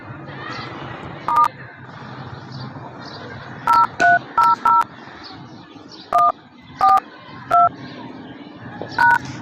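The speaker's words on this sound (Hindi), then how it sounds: "मैं आपको फिर एक बार ऐसे भी डायल करके दिखा देता हूँ," Telephone keypad DTMF tones dialed one by one, about a dozen short clear beeps in irregular groups over a faint background of someone talking.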